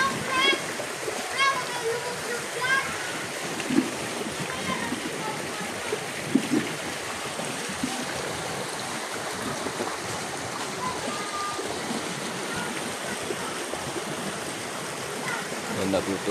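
Children playing in a clean river, with faint scattered splashes and trickling water over a steady stream, distant and soft throughout.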